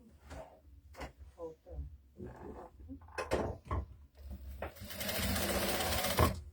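After some knocks and handling clatter, a sewing machine starts stitching the shoulder seam of a garment, a close, steady whirring buzz lasting the final seconds.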